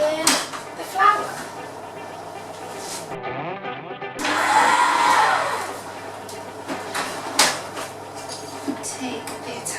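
An electric stand mixer with a paddle attachment churns Biscoff cake batter on low speed, its steady motor whir rising for a few seconds in the middle while a person talks over it.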